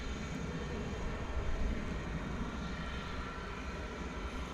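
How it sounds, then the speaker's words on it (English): An American Airlines flight from Cancun arriving at DFW Airport in the evening, heard as a steady, broad jet roar that holds for the whole stretch, with no talk over it. "Here comes a flight from Cancun."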